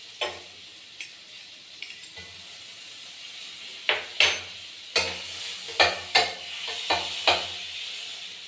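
Butter melting and sizzling in a kadai, quiet hissing at first, then a run of sharp, regular scrapes and taps from a spatula working the pan, close and distinct.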